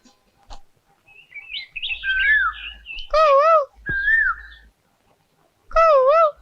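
A human voice whistling in imitation of a koel's call, producing several rising and wavering tonal phrases with pauses between them, loud and close.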